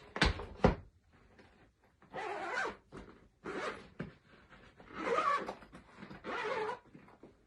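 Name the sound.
unzipping a violin case zip all the way around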